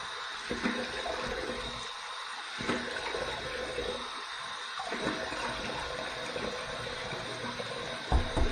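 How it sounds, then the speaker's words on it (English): Warm water runs from a bathroom tap during a wet shave, a steady broadband rush with a few brief splashes and knocks, close by and continuous throughout. "Here's my warm water rinse."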